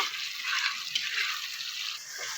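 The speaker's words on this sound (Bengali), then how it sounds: "এবার আলুগুলো দিয়ে দেবো। আলুটা দিয়ে ভালো করে আবার কষিয়ে নেব।" Potatoes stir-fried in spice paste in a pan for a Bengali dhokar dalna: a soft, steady sizzle and frying hiss with faint scraping from stirring, continuous and low in level.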